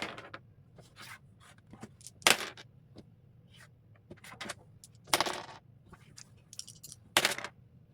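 Dice rolled several times on a hard surface, each roll a short clattering burst of sharp clicks and rattles, separated by quiet gaps, close and fairly soft.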